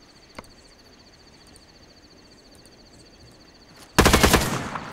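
Machine gun fire in the military shooter Arma 3 breaks out as a sudden loud, sustained burst near the end, after a quieter stretch with a faint single shot early on.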